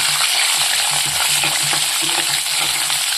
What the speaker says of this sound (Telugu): అవి బాగా వేడెక్కిన తర్వాత కట్ చేసి పెట్టుకున్న అల్లం ముక్కలు వేసి బాగా వేసుకోవాలండి